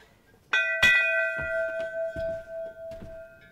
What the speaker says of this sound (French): Cette petite cloche.